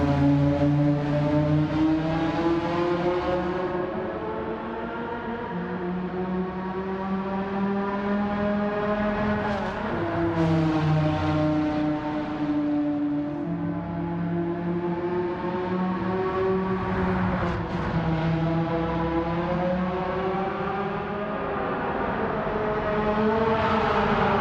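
Porsche Carrera GT V10 in Gran Turismo 7 wails at high revs, a loud, sustained engine note climbing and dipping through gear changes with no voices over it.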